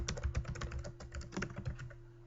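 Rapid keystrokes clatter on a computer keyboard close by, an irregular stream of clicks with a steady low hum underneath and no talking.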